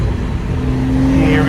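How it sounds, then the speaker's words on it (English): A tuned 2006 Acura TL with its muffler deleted downshifts on a night drive, giving a loud, steady droning engine note heard from inside the cabin that climbs slightly near the end. "Hit this downshift right fast."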